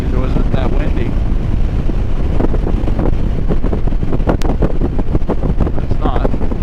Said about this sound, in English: A little bit windier than it was yesterday.